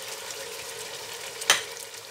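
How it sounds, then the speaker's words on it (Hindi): Chicken and vegetables frying in a pan with black pepper, a steady soft sizzle with one brief sharp clatter near the end, no voices. "और इसको अच्छी तरह भून लेंगे"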